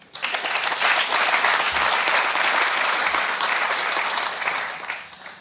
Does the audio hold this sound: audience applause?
yes